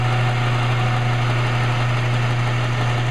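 Harbor Freight 4x36 belt sander running steadily after its belt was re-tracked, a continuous even motor hum with a low drone, close and alone with no talk.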